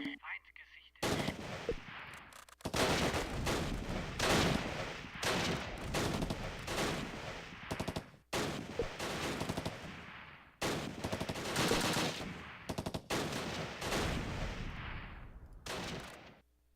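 Rapid bursts of gunfire and machine-gun fire from the video game Close Combat: Last Stand Arnhem, loud and nearly continuous, broken by a few brief pauses.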